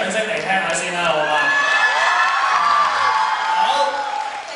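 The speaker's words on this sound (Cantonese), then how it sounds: "就從呢一個叫聲同埋掌聲，我就知道今日呢一個比拼簡直係難分高下" A large crowd at a Christmas dance party cheers, whoops and applauds loudly and continuously, with children's shouts mixed into the roar.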